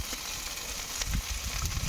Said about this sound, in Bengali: এই যে হচ্ছে মনা আর বিলাস, দুইজনে ভাজা হচ্ছে কড়া করে।